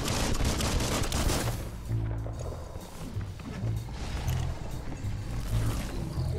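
Rapid game gunfire bursts from Biomutant fill the mix, dense and loud at first, then continuing in choppy volleys over a steady background score.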